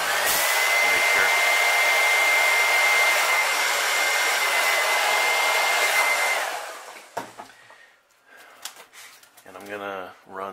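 A heat gun blows with a loud, steady roar while setting paint on a pumpkinseed crankbait, then shuts off, followed by a few handling noises and a person speaking.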